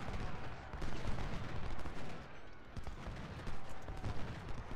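Civil War artillery and massed rifle fire from Ultimate General, a dense crackle of irregular shots and deeper booms rolling over a noisy battlefield backdrop, moderately distant and continuous.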